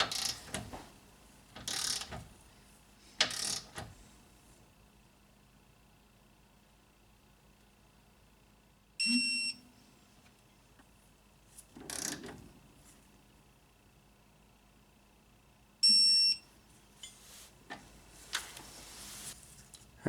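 A torque wrench tightens bolts to 40 foot-pounds in a workshop, with sharp ratcheting clicks arriving in two brief, close bursts amid quieter handling noises and long pauses.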